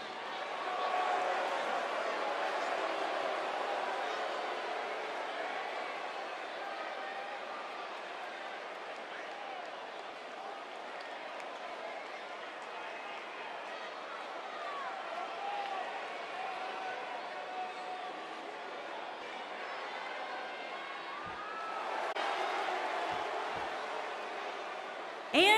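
A wrestling arena crowd roars and cheers in a dense, steady wash for nearly half a minute, swelling toward the end, while commentators talk over it.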